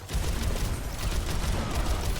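Continuous rapid gunfire from the hero shooter Overwatch rattles on as a dense, unbroken barrage at moderate loudness for a couple of seconds.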